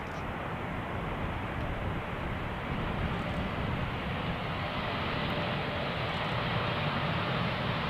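An Emirates Airbus A380 airliner approaches runway 18R at Amsterdam Schiphol, producing a constant, heavy jet roar that stays loud and even from start to finish with no voices.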